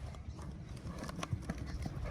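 A horse trotting in an arena gives a steady run of clip-clopping hoofbeats, fairly close and moderately loud, with no talk over them.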